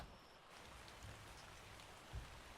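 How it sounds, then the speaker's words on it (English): Steady rainfall in the survival video game Ark: a continuous, faint, even hiss with a couple of soft low thumps, and no talking. "Yep, it is raining."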